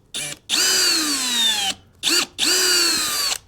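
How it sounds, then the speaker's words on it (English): A power drill whines loudly in two long bursts with a short pause between, the motor pitch dipping slightly as it bites into a plastic ball, while rebuilding Fox Podium shocks for a Wildcat 1000X. "we're just going to drill a hole in the middle of the ball"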